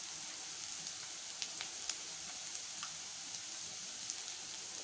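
Asafoetida and turmeric sizzling in hot oil for palak dal, a faint, steady crackle with tiny scattered pops, close and without talk.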